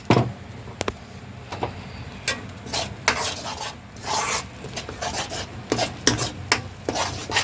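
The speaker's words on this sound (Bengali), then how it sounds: "ভালো করে মশলাটাকে মিশিয়ে দেব ধনে জিরে গুঁড়োর সাথে" A spoon scrapes and rasps in a pan, stirring a spice mix with ground coriander and cumin for a vegetarian cashew okra masala, with repeated sharp strokes close up over a faint sizzle.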